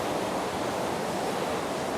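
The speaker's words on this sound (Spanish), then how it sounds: "Otra nueva cascada que vamos a cruzar en el camino de Salcantay." Waterfall on the Salkantay trek in the Peruvian mountains, a steady broadband roar of falling water that fills the whole moment at constant loudness, close by and with no voices over it.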